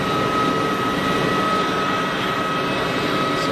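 An easyJet Switzerland Airbus A320neo jet airliner at Geneva Airport, a steady, loud engine roar and rushing noise with a faint whine running through it, no talk.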